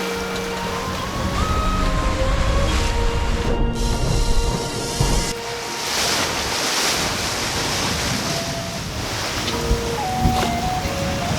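Atlantic Ocean waves and gusting wind around a small sailboat on an 800-mile passage to Cape Verde, a loud continuous wash with surges and hull slaps and no talk.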